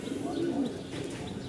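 Pigeons coo softly in a loft or market setting, a brief low murmuring call repeated over a steady background hum with no clear talk.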